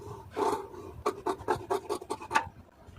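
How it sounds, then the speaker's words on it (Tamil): Cutting through blouse lining fabric, with one longer rasping stroke followed by a quick rhythmic run of about eight short, crisp snips, close up and with no voices. "இப்போ இதை அப்படியே கட் பண்ணி எடுத்துருவோம்"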